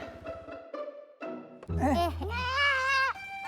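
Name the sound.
goat bleating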